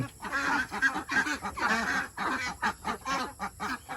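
A flock of domestic ducks gives loud, overlapping honking quacks in a steady chorus, eager just before an evening feeding.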